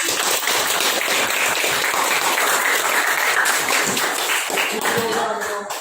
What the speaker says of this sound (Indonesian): Silakan tunjuk tepuk tangan buat kelompok.